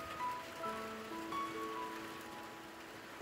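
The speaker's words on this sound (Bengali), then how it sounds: "কিন্তু বৃষ্টিটা খুব বেশি জোরে হয়নি" Light, gentle rain falls on an open rooftop terrace, a steady soft hiss of drops throughout at low volume, with faint tonal background sounds drifting through and no talking.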